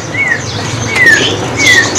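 Young samyong songbird calling in a market setting: three short, clear, rising whistled chirps spaced evenly over a steady background hum, close and fairly loud.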